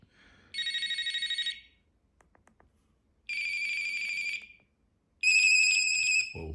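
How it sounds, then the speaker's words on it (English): Standard ringtone from a 1997 Vodafone MN1 mobile phone sounds in three loud, close bursts of rapid electronic trilling beeps, separated by short pauses, with faint handling noise between. "Right, ringtone."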